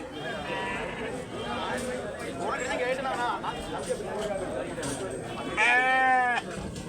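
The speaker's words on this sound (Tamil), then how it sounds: "இது எல்லாமே வெள்ளாடுங்க" Goats bleat repeatedly at a busy livestock market, several wavering calls close by, one loud near cry standing out, over steady crowd chatter and someone talking.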